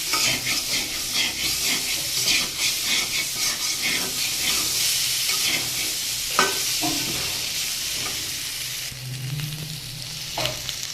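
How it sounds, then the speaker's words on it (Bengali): Taro (gati kochu) frying in hot oil in a pan, a steady close sizzle and hiss with repeated spatula scrapes and clinks as it is stirred, no talking. "এটাকে একটু ভালো করে ভেজে নেবে, তারপরে জল দিয়ে দেবে।"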